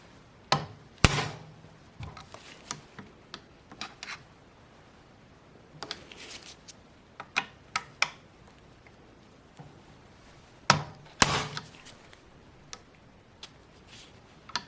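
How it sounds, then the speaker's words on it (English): A hollow pin punch is struck to loosen the rear sight retaining pin on an SKS rifle, giving a series of sharp metallic taps and clicks at irregular spacing, close and fairly quiet, with no speech. "the best way to remove the retaining pin is to first loosen the pin using a hollow pin punch"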